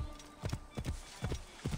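A horse's hooves clip-clop in Assassin's Creed Origins, four or five separate paired hoof strikes spaced at an easy walking rhythm, close and clear over a faint background hum.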